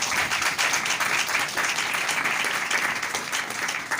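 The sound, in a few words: congregation applause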